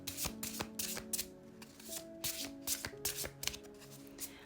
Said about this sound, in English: While I am shuffling